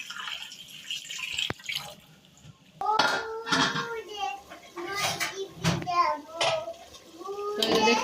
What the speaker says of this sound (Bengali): তো এই যে চালগুলো ধুয়ে নিতেছি হালকা হাতে, কচলায় দেওয়ার দরকার নাই